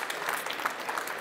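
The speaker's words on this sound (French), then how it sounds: "venez, sous vos applaudissements" Audience applause at a French industry conference welcomes a guest to the stage, a short, steady burst of many hands clapping with no talk over it.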